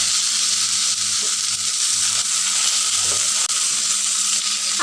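Pangas fish pieces fry in a pan of hot oil, giving a steady, close hiss of sizzling that runs unbroken throughout with faint soft stirring bumps underneath.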